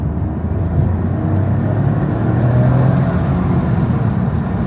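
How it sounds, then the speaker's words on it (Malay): Steady, close turbocharged Toyota GR Yaris engine rumble with a low droning hum, holding a fairly constant rev without clear acceleration. "Turbocharger dia adalah turbocharger yang ada bunyi macam ni."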